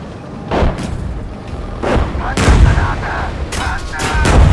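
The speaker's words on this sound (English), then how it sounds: "And there are tanks moving up right here, so we'll engage those ones first. And fire." Tank cannon on a T-54 in the Gunner HEAT PC tank game fires in a few loud broadband booms, with rumbling battlefield noise between them and a voice speaking over parts of it.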